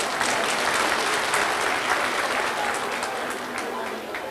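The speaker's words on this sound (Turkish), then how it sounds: "kendinizi yüksek bir alkışla teşekkür etmenizi rica edeceğim" Loud, sustained applause from a crowd at the opening ceremony of a restaurant, dense clapping that slowly eases toward the end.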